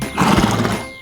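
A horse gives one short, loud, close neigh: a quick bright whinny that rises and fades within about a second, followed by a sharp final snort or knock.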